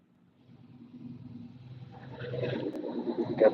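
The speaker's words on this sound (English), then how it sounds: "Got that throaty truck again." A loud, throaty truck drives by on a street at night, its low rumble swelling steadily from faint to close and loud over a few seconds.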